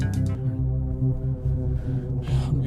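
A person mimics a clown horn with a strained, nasal honking voice, one sustained buzzy honk lasting a couple of seconds, loud and close with no other sounds.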